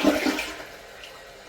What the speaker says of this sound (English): let's flush a couple of dried flowers